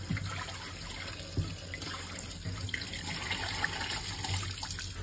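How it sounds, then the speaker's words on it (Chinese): Mushrooms being washed under a running kitchen tap, a steady hiss of flowing water with light splashing and occasional knocks in the sink, continuous throughout. "咱们把这个蘑菇啊都给它洗干净。"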